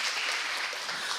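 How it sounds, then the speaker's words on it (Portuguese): An audience at a Portuguese-language panel discussion on housing improvements and climate adaptation gives a short, steady burst of clapping that fills the moment, with no talk over it. "Uma salva de palmas para esse painel incrível."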